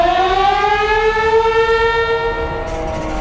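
A civil defense siren, sounded for a war-game mock drill, wails loud and steady with a rising tone and strong harmonics, with nobody talking.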